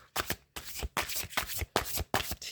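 Tarot cards riffle-shuffled for a reading, coming as five or six quick bursts of crisp paper fluttering, close and fairly loud, with short pauses between bursts and no talking.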